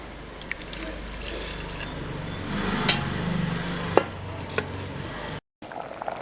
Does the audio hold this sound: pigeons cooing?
no